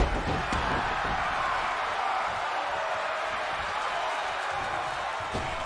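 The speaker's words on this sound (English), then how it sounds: "And the crowd is going absolutely ape" A wrestling audience roars in a packed event space, a dense, steady wall of cheering and shouting that holds loud and close throughout with a few sharp bangs near the start and end.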